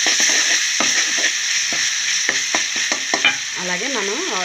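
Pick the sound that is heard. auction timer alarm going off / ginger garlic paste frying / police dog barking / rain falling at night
ginger garlic paste frying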